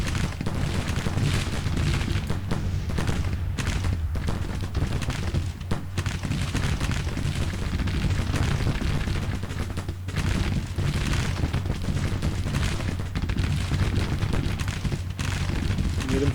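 Civil War troops firing in Grand Tactician: Civil War, a continuous dense crackle of musketry and distant booming artillery, steady and loud throughout, with no pauses.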